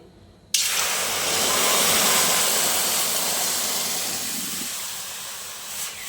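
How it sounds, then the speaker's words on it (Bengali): Water poured into a pan of fried dal bursts into a sudden loud, broad hiss of steam that holds steady for several seconds and then slowly softens, heard close with no talking. "ডালটা ভাজা হয়ে গেছে, আমি জল দিয়ে দিচ্ছি।"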